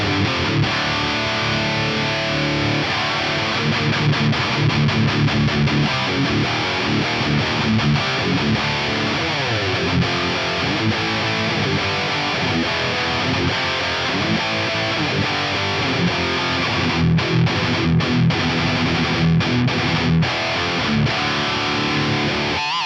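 Heavily distorted high-gain electric guitar on the bridge pickup, boosted by a Tube Screamer through a Line 6 HX modeler, plays loud, chugging riffs and sustained chords, a thick saturated tone throughout with no voices.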